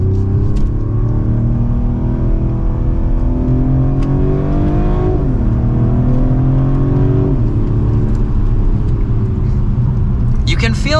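A 2024 Mercedes-Benz CLE450 coupe accelerates in second gear, its engine note rising steadily from inside the cabin, dipping briefly at a shift before climbing again, with a person talking over it.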